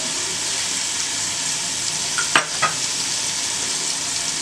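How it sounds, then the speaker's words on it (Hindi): Onion frying in a spoonful of hot oil, a steady close sizzle with a couple of sharp clinks of a utensil near the middle, no speech. "प्याज इसमें डाल देनी है"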